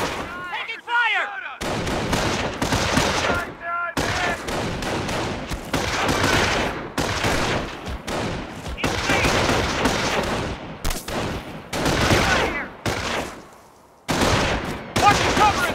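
Battlefield gunfire in Company of Heroes: dense, continuous rifle and machine-gun bursts with heavy booming reports, loud and close, nearly unbroken for the whole stretch.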